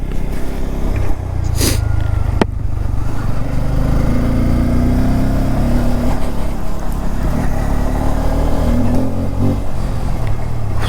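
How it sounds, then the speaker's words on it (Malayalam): A Bajaj Pulsar N250 250cc motorcycle runs steadily while being ridden, its deep, bassy engine and exhaust note droning close and loud with small shifts in pitch and brief bursts of wind noise. "അടിപൊളി സൗണ്ട്. ആ ഒരു പൾസറിൻ്റെ ആ ഒരു ബേസ് ഉണ്ടല്ലോ സൗണ്ടിൽ നിന്ന് നമുക്ക് കിട്ടുന്ന, അത് ഈ വണ്ടിക്കുണ്ട്."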